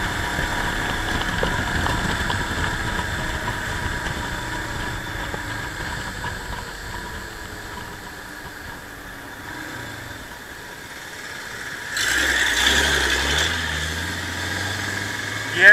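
A Royal Enfield Himalayan BS4 motorcycle cruises at about 60 km/h, its engine giving a steady mid-pitched drone beneath wind rush, with a rise in rumble and noise near the end.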